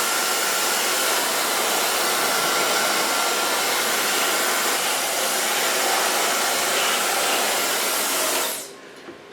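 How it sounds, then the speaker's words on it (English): A hair dryer blows hair dry at a salon styling session, a loud, steady, close-up roar running unbroken for several seconds before switching off abruptly near the end. "So far blow drying"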